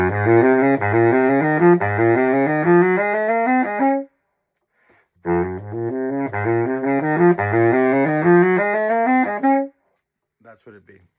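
Solo saxophone plays measures 11–12 of an all-region étude, a flowing run of quick notes that starts soft and swells in a crescendo, then stops, repeats after a short pause and stops again.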